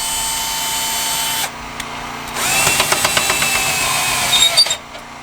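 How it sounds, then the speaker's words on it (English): A power drill with a 3/4-inch socket whirs steadily, stops briefly, then starts again under load turning an RV stabilizer jack crank, with a rhythmic ratcheting chatter as it turns, loud and close. "If you want to cheat, you can get yourself a drill."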